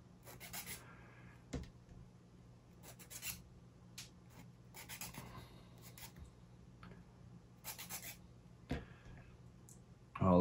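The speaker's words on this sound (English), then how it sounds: "we're going through the same exercise, which is sanding the parts a little" Light sanding of small laser-cut wooden UGears Windstorm Dragon model parts, heard as soft, quiet rasping strokes in short irregular bursts with pauses, close up and alone, ending in a brief louder knock.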